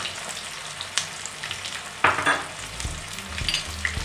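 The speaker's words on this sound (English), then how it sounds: "Then after added onions, slice cutting onions" Sliced onions frying in oil for a restaurant-style mutton curry, a quiet low sizzle with a few sharp clatters and bursts of stirring against the pan.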